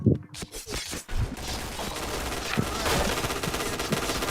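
Rapid bursts of gunfire from the video game Point Blank, with sharp shots at the start, then dense overlapping automatic fire, loud and close throughout.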